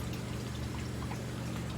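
Water pours steadily into a hydroponic reservoir after passing through a carbon and sediment filter, a constant close rushing fill with a low hum underneath and no pauses.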